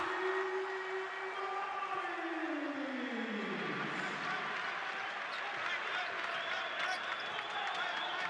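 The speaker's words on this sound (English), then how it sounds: "Crowd has woken up slightly now." Basketball arena crowd at a FIBA World Cup qualifier between Serbia and Georgia, a broad steady roar of cheering and applause filling the hall throughout, with a descending siren-like tone fading out early on.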